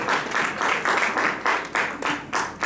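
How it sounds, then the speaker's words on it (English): A church congregation claps during a sermon, a series of rhythmic bursts of group clapping pulsing roughly twice a second, fairly close with little talk over it. "clap for me."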